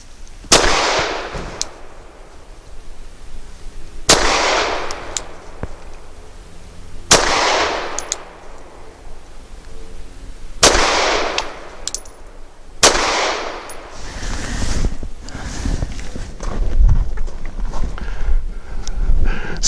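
A Sig P365 XL pistol fires Nosler 115 grain ammunition at a target 7 yards away. Five loud, sharp reports come a few seconds apart, each followed by a ringing decay and small metallic clinks. No talking.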